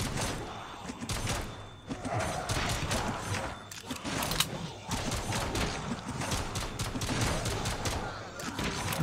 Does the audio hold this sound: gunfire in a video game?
yes